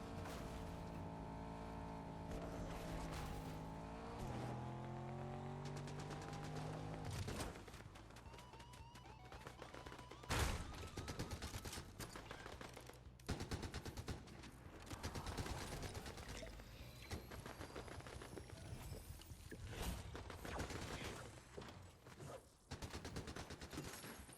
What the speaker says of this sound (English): We will run away from the gunshots.